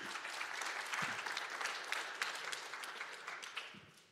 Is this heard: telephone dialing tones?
no